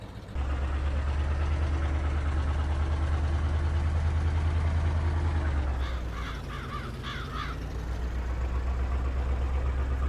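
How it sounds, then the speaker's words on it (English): Engine of a small Henry tractor pulling a seeder in Farming Simulator 22, planting in snow: a steady low idle-like drone runs throughout, loud and continuous, shifting slightly in pitch partway through. "I love this little awesome Henry tractor."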